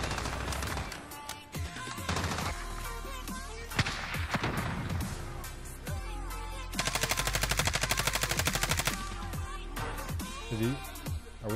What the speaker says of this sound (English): Are we shooting or is he shooting?